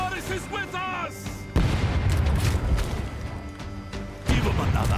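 Cannon fire from pirate ships in Rogue Waters, two loud booming blasts with crackling debris and rumble trailing after each, following a stretch where someone speaks over the game noise.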